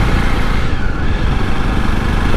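Motorbikes riding through busy street traffic, their engines droning loud and steady from near by with no break across the whole moment.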